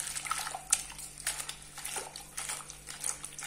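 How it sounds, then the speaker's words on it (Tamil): Spinach greens are swished and rinsed in a pot of water, giving soft, repeated splashing and sloshing in irregular bursts, faint and close with no talking. "கீரையை கழுவுறதுக்கு இந்த மாதிரி குண்டால தண்ணி எடுத்து வச்சிருக்குங்க"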